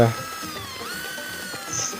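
A zigzag carbide drill bit bores through ceramic tile with a close, steady whine whose pitch dips and shifts as the bit cuts, a low voice faintly under it.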